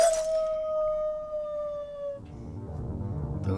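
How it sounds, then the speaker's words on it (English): A single long wolf howl from the closing moments of the 2010 horror film The Wolfman, one sustained descending tone that rings loud and clear for about two seconds before fading into a low rumbling background. "we're treated to one last howl for the road"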